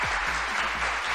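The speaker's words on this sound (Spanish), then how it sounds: "El aplauso no." Applause sound effect from a stream alert plays as a brief, steady hiss of clapping, with a low tonal sweep and hum underneath.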